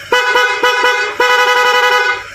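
A loud, brassy dual horn on a Honda ADV 160 motorcycle honks repeatedly up close: several quick short toots followed by one longer sustained blast that trails off.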